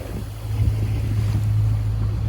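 Strong wind buffets a sailboat crossing rough, whitecapped water in French Polynesia, a steady loud rush with a low hum beneath and no voices.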